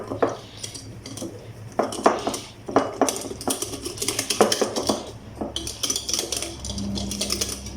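Batter being mixed in a bowl, rapid irregular clinks and scrapes of a utensil against the bowl in bursts, close and fairly loud, with no talking.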